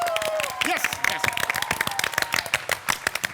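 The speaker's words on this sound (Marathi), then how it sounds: "आता जोरदार सगळ्यांसाठी टाळ्या वाजवा" A comedy show's studio audience claps on cue, a brisk patter of individual claps building into fuller applause while voices talk over the start.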